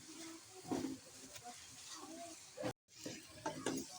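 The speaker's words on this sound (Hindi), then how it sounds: "इन मसालों को हम अच्छी तरह से भून लेंगे। अदरक लहसुन भी हम इसी में भून लेंगे।" Spices with ginger and garlic fry in a pan with a soft sizzle and hiss, broken by a spoon stirring and scraping at intervals, faint and close.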